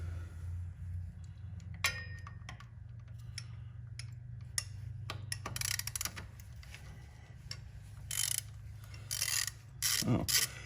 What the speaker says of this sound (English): we're going to need a long extension for our ratchet.